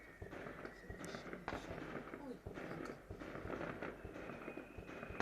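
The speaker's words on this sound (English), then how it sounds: "So can you hear them? The fireworks going off." Outdoor New Year's Eve fireworks crackle and pop continuously at a distance, with sharp bursts scattered across the sky over a steady rumble, while a person speaks briefly nearby.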